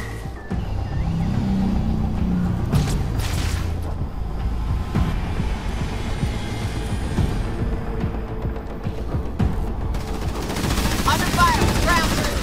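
Gunfire in the strategy game Halo Wars 2 on a Legendary mission: rapid bursts of shots and booms crackle densely throughout, mixed with vehicle rumble and brief game voice lines.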